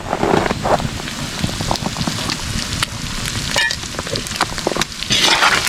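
Meat frying in a pan over a firewood fire outdoors in a frozen Russian village, a loud steady sizzle and crackle with scattered pops and stirring scrapes, no voices.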